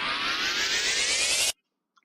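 Record scratch sample played back in LMMS, a steady, noisy swishing sweep for about a second and a half that cuts off abruptly into silence, followed by a tiny faint blip.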